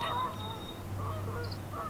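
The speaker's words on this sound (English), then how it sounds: "Listen to the voice of nature, full of birds chirping and sounds of water" Geese or ducks honk faintly by a calm lake shore, a few brief calls over a steady low hum and soft ambient background.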